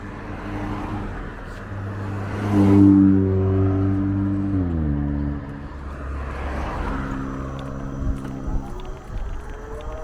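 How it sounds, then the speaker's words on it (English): A car on the road approaches and passes close by, its engine drone rising and then falling in pitch. A second vehicle follows more faintly, with wind noise in the background. "Wait for this car."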